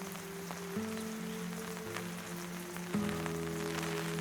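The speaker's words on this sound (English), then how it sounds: "beyond the sound of rain" Steady rain falls throughout, a soft continuous hiss of drops on a surface, with sustained low musical tones playing over it and no voices.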